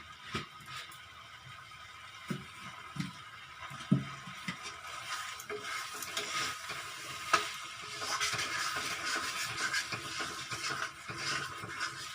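Spices roast in oil for dum aloo with kasuri methi, a soft continuous sizzle broken by scattered knocks and scrapes of stirring, fairly quiet and close, with no speech.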